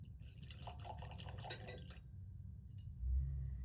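Silk Velvet whiskey poured from a fat bottle into a glass, a soft, close trickle of liquid with small splashes and drips, followed by a brief low thump.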